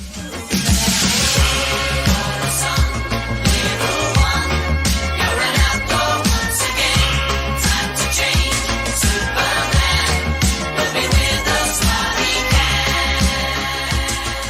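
Upbeat 1980s pop song with steady drums, bassline and layered vocals, playing continuously and loud.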